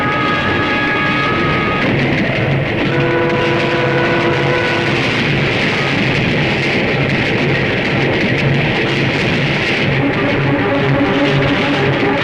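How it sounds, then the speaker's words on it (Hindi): A train rushes past without stopping in a Hindi action film scene, a loud continuous roar with rumbling and whining tones, steady and close throughout with no speech. "अरे ये क्या, ये ट्रेन रुकी क्यों नहीं?"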